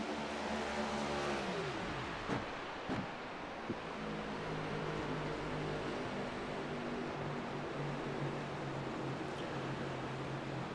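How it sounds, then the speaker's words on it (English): A race car in the iRacing video game at Talladega coasts off throttle behind the pace car, a steady droning engine hum with falling tonal lines and a couple of brief clicks, continuous and fairly loud throughout. "We already hear the throttle off, and he is coasting his way to the iRacing.com pace car."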